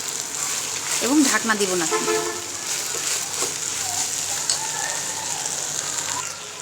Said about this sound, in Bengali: এখন খুব ভালোভাবে পেঁয়াজ এবং তেল যে দেওয়া আছে তার সাথে মিশিয়ে দিচ্ছি